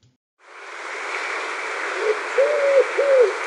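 Wood pigeon calling its monotonous territorial song in spring, a few soft hooting coos rising out of steady broadband background noise toward the end.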